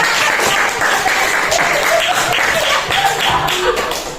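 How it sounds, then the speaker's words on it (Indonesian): A classroom group bursts into steady applause, dense, close clapping that carries on for a few seconds before tapering off at the end. "Oke, kasih tepuk tangan untuk kita"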